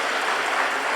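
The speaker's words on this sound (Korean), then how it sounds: "박수 한번 보내주시기 바랍니다" Dense applause from a church congregation during a Sunday worship service, a brief loud burst of many hands clapping together.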